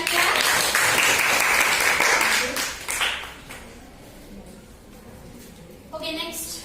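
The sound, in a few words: clapping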